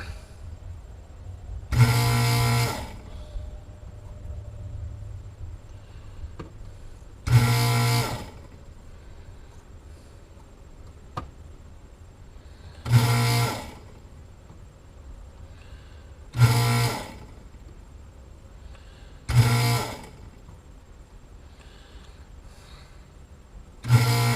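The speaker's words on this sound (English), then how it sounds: "I got a little foot feed down here that I'm hitting when you hear that underneath my desk, and that's the suction on this desolder station" A desoldering station's foot-pedal vacuum pump fires in six short, loud suction bursts spaced several seconds apart under a desk, with a faint steady hum between them during repair of a Cobra 29 LTD Classic CB radio.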